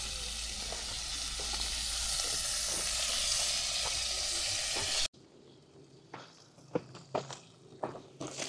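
Food sizzles and fries steadily in hot oil on a camp stove outdoors, a loud continuous hiss for about five seconds, then cuts to quieter scattered clatter and stirring knocks.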